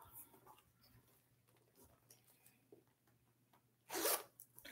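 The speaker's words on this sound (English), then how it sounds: "It has a zipper top." The zipper along the top of a black leather Dooney purse is pulled in one quick, loud rasp after soft handling noises and faint background voices.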